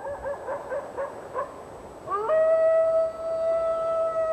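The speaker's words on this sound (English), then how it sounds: "Wolves howl for many reasons." Wolves in the Dolomites howl at a distance: short yips and wavering calls at first, then a long, steady howl that holds and slowly fades, with no one talking.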